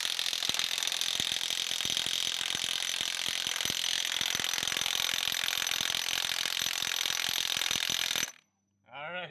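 A cordless Milwaukee M18 FUEL impact wrench hammers continuously at a 40-year-old pivot nut, a loud rapid rattling ratchet sound for about eight seconds before stopping abruptly, followed by a brief faint noise.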